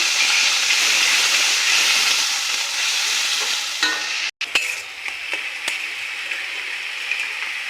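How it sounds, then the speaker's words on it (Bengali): Onion paste with tomato sizzles steadily in a hot pan while it is stirred, giving a loud, continuous frying hiss with a few scraping knocks near the end and no voices. "পেঁয়াজ বাটাটার মধ্যে দিয়ে দিলাম এবারে একটু ভাজা ভাজা করে নিই"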